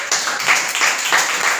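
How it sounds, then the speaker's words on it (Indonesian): A classroom group of students receives a short burst of applause: dense, steady clapping from several people, fairly close and continuous for under two seconds. "Berikan tepuk tangan untuk kelompok 3 yang sudah."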